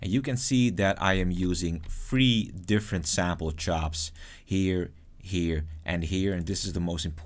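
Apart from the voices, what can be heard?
None of the usual background noises is heard.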